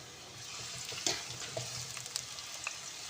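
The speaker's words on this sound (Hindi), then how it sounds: "घी में प्याज जो है इसको नरम कर लेंगे।" Chopped onion frying in ghee, stirred with a wooden spoon, a steady soft sizzle with scattered light spoon clicks and scrapes against the pan, close and fairly quiet throughout.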